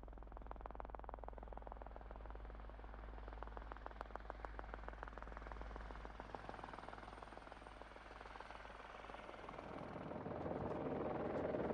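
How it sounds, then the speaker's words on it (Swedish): A helicopter flies overhead, its steady rotor chop thumping at an even rhythm throughout and growing louder and closer toward the end, with no talk. "titta, helikopter!"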